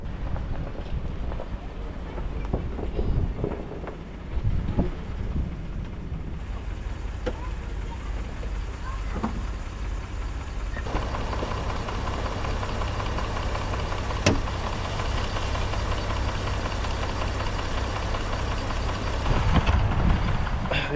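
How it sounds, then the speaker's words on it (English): A pickup truck idles and maneuvers while backing up to jump start a vehicle that has sat unused for months, its low engine rumble steady and close, with a heavier drone building midway and some clunks and handling noises. "I'm gonna back up my truck and jump start it."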